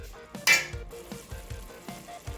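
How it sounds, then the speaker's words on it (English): Ginger garlic paste sizzles in a pan for an Indian-style Japanese curry, a close hiss with a brief loud burst as it hits the oil, followed by quieter frying and rhythmic stirring scrapes. "to this I'm going to go ahead and actually add some ginger garlic paste."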